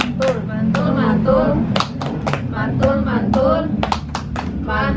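Group clapping chant in a community health and nutrition session, a roomful of participants striking hands in a quick rhythmic pattern, close and loud, with voices chanting along.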